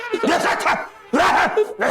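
A dog yips and whines in two quick bursts, close and fairly loud, within a Hindi drama scene.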